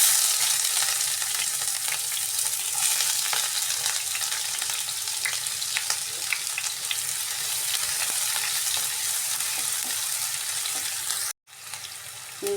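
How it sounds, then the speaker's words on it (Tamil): Cumin, onion, ginger and chopped green chilli sautéing in a pan give a loud, continuous close sizzle with faint scraping of stirring throughout, broken by a short silent gap near the end. "இதனெல்லாம் வதக்கணும்"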